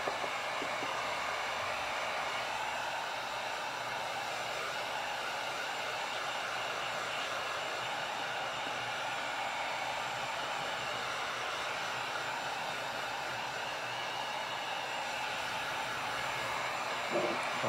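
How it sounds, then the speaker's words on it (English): A heat gun dries a thin dabbed layer of latex on a skull neck, giving a steady, continuous blowing hiss that holds at an even level throughout without talk. "so get the heat gun"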